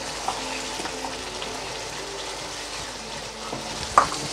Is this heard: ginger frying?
yes